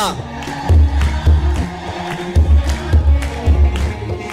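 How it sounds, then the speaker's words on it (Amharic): Crowd at a devotional hymn gathering for Saint Mary, with rhythmic clapping in regular bursts and high ululating cries over a steady low backing that carries on throughout. "እልል ጭብጨባ"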